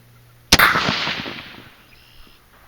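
A rifle firing a higher velocity test round at Rock Island Arsenal, one loud sharp crack followed by a rolling echo that fades over about a second, heard outdoors alone.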